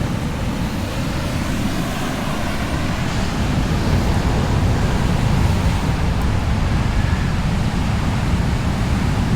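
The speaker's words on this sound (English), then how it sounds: "today we all have to just watch these waves coming in" Large ocean waves roll in and break at Keawaʻula Bay on Oʻahu, a loud, continuous surf roar with steady low rumble and washing hiss, close and unbroken throughout with no voices.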